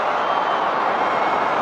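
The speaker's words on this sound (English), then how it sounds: "A lot of noise today in this crowd." Dense, steady roar of a large cricket stadium crowd at the IPL 2025 final between RCB and PBKS, a continuous broadband wash of many voices without pauses, loud and enveloping throughout.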